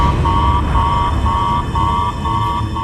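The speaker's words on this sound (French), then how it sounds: "Soudain, l'alarme sonore brise le silence de la station." An alarm aboard the International Space Station sounds as a loud, steady series of repeating electronic beeps, regularly spaced, over a constant background hum and hiss.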